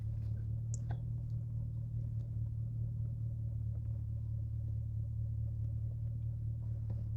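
A car engine idles with a steady low rumble while parking, close and even throughout, with a few faint clicks on top and no talk.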